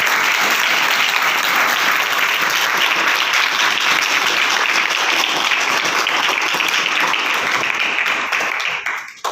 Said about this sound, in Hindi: तो ये आप अपने लिए और सभी के लिए जोरदार तालियां है।